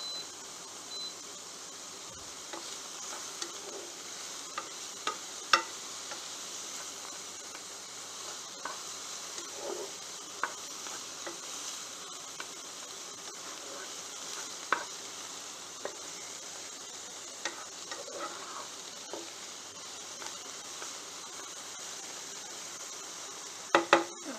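Onions cooking in rendered merguez sausage fat in a very large pan over medium heat, giving a steady, soft sizzle with occasional faint clicks and stirring taps, no voices.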